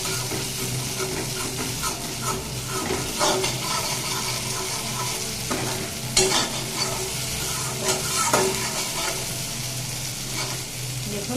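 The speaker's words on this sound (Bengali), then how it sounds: "তিল বাটাটা কিন্তু বেশ ভালোভাবে এরকম নেড়ে চেড়ে কষাতে হবে, একদম তেল ছেড়ে যাবে" Ground sesame paste stir-fried in oil in a pan, sizzling steadily while a spoon scrapes and stirs in repeated strokes, close and loud throughout.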